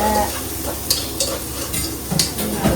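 Onions fry in hot oil in a home kitchen pan, with a close, steady sizzle broken by a few scraping stirs and light clinks of a spoon against metal.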